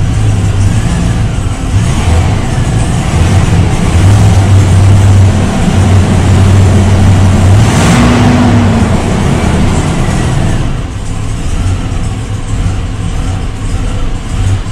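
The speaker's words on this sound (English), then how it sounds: "It's definitely still got a miss in it, without a doubt." Truck engine idling with a misfire, a loud, steady low rumble with an uneven, pulsing beat running through it, heard close up with no talking.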